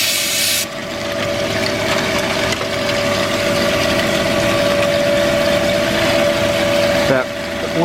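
A metal-cutting saw machine runs with its coolant pump, giving a loud steady mechanical drone with a sustained whine, rising after a brief start and cutting off near the end.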